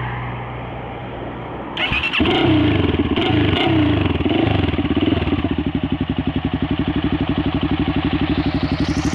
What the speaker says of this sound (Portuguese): Vou ligar a moto.